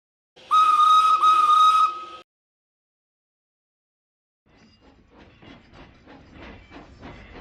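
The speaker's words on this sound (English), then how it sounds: "Steam was pouring out of his cylinders quite badly." A steam locomotive venting steam: a loud whistling hiss blast, a pause of silence, then rhythmic puffs of hissing steam that build steadily in strength.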